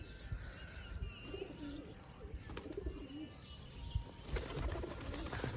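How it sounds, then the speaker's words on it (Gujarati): Pigeons coo softly and murmur near a nest with eggs and a chick, with brief wing flaps and stirring, with faint bird chirps over a steady low background. "આ કબૂતર ઘડી વળી આમ આવવાનું કરે છે."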